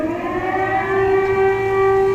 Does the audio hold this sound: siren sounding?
yes